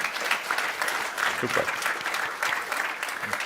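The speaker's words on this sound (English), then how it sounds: "Round of applause, ladies and gentlemen." A conference audience gives a round of applause, dense steady clapping throughout with a brief voice heard over it.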